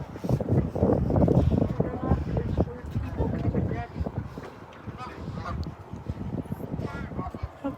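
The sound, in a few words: ducks quacking at a pond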